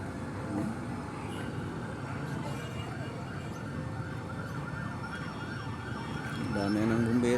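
Fire truck sirens wail in the distance beneath a dense crowd murmur and street noise at a house fire in Pasig, growing a little louder toward the end.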